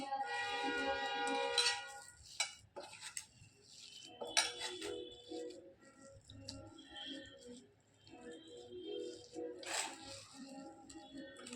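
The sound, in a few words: stirring the cooking mixture in a pan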